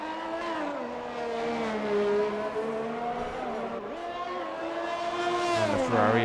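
Ferrari race car engine on a flying lap at the Australia circuit in a sim racing game, a loud sustained howl that rises and falls with gear changes and throttle, with a commentator talking over it.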